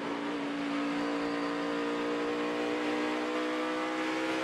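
Tony Stewart's NASCAR stock car driven hard around a track, its engine giving a steady, droning tone with strong harmonics, heard continuously and fairly distant without talk.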